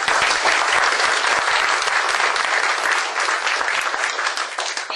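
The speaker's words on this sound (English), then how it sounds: "So just if we could give a round of applause to Cindy for all that she's done." Loud, sustained applause from the audience at an annual association meeting, many hands clapping in a thick continuous roar that eases off slightly near the end.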